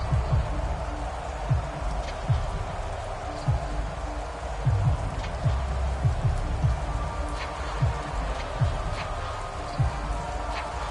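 Steady rain falls over a football field in the Madden 24 video game, a constant hiss with scattered low thumps and taps throughout, a faint voice murmuring underneath.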